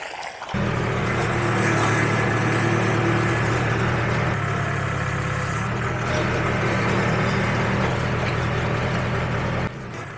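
A pump engine runs outdoors, sharply loud. It starts up and holds a steady droning rumble that is loud and near, then cuts off abruptly near the end, with no talking.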